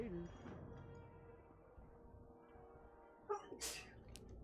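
A person sneezes sharply and briefly near the end, set against a quiet background of live-stream gameplay audio.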